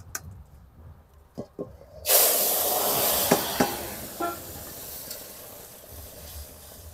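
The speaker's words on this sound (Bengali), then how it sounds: "এখন আমি তরকারিটা ঢেলে দেব।" Curry poured into hot oil tempered with radhuni, giving a sudden loud sizzle that starts partway through and holds steady with a few stirring clicks, after quieter kitchen sounds.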